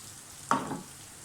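Hot tadka of golden-browned garlic-ginger paste and spices poured into dal, a single sharp burst of sizzling that fades quickly over half a second.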